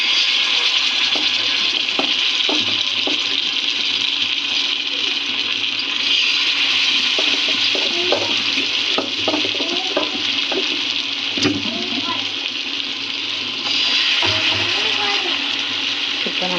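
Fish pieces fry in oil on a tawa, giving a broad, steady hiss that runs loud and continuous, with scattered crackles and a voice talking over it.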